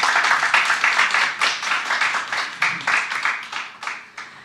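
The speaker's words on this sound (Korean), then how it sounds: "박수 한번 부탁드립니다" An audience at an academic conference opening ceremony claps after a keynote lecture, a close, steady run of many hands applauding that fades slightly toward the end, with no talk over it.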